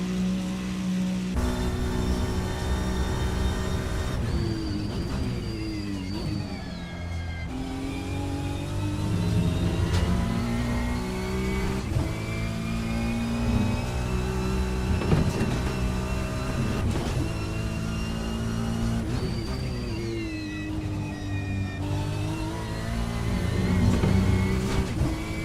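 Ferrari 296 GT3 race car in a Road America online racing game, engine droning loudly and steadily throughout with repeated rising and falling revs through gear changes, joined by other cars' engines.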